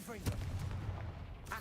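A Confringo blasting spell goes off in a wizard duel as a single short, loud, punchy burst, with a brief voice heard just before it.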